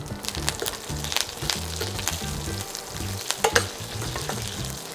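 Curry leaves crackling in hot oil with ginger and green chili, the base for a coconut prawn curry. Uneven spits and pops ride over a steady, close sizzle, with no voices.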